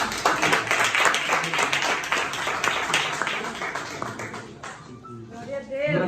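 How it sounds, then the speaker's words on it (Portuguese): A church congregation claps together in praise during a service, a dense rhythmic burst of many hands under a voice that fades near the end. "Aplauso para Jesus."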